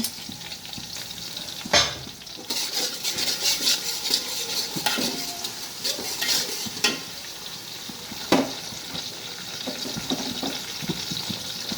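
Chopped ginger sizzles in a hot pan while a utensil stirs it, with clinks and scrapes of metal on the pan over a steady frying hiss, close up and without talk.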